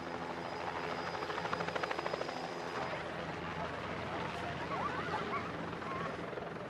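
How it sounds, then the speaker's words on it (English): American helicopters flying over Phnom Penh, Cambodia, a steady loud rotor drone filling the whole stretch with a faint rhythmic chop. "American helicopters arrived unannounced in Phnom Penh."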